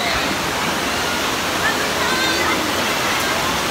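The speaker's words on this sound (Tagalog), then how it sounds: "Papakita ko sa inyo yung spring." Water at a cold spring resort rushes and splashes steadily, a continuous broadband wash like a small waterfall or stream pouring close by, with no clear pauses throughout.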